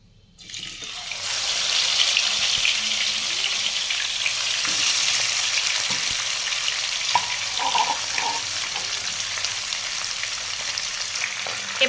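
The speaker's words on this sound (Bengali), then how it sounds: "এবার মাছগুলো উল্টে পাল্টে ডিপ ফ্রাই করে নেব।" Pomfret fish deep frying in hot mustard oil, a dense, close sizzle that starts abruptly and holds steady, with scattered small pops and faint clinks of utensils throughout.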